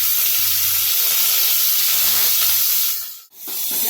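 Garlic, green chilli, shallots and curry leaves sauté in hot oil, making a loud, steady hissing sizzle that drops away sharply near the end before returning more softly.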